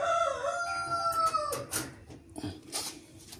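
A rooster, a thin chicken recovering its weight, gives one loud, close crow lasting about a second and a half, followed by a few short scratchy clucks and rustles.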